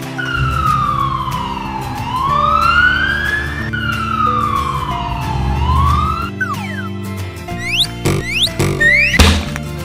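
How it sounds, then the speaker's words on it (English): A police car siren sweeps up and down twice in a rising-and-falling wail, loud and close, followed by a string of springy boing effects and thuds. "Police car."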